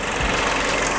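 A Hyundai Santa Fe's 2.4-litre inline four-cylinder, 188 horsepower, 16-valve, runs at a steady idle, close and loud, with a faint low knock at the start.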